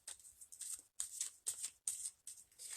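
A deck of backstory cards being side shuffled, five quick riffling bursts in a steady rhythm with brief pauses between, close and crisp.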